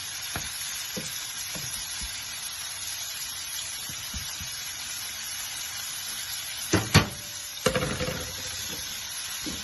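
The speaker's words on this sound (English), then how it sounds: "You have to make sure you stir everything in with the shrimp." Shrimp in marinade fries with a constant sizzle in a pan, and toward the end a few louder clanks and scrapes come from stirring. The sound is close and there is no talk.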